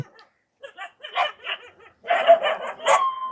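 Dogs from a household pack of seven in Kaluvanchikudy give scattered short barks, followed by a louder cluster of yapping barks close by.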